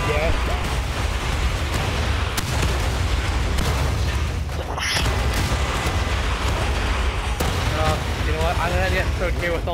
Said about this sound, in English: Okay, with all the explosions,